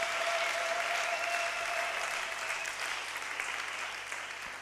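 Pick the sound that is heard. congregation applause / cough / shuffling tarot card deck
congregation applause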